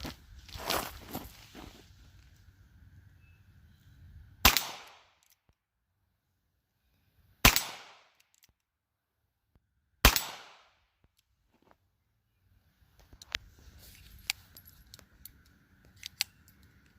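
.22LR high- and hyper-velocity defense and game loads fired through a chronograph: three sharp, separate cracks about three seconds apart, each with a short ringing decay, between quieter handling and shuffling noises.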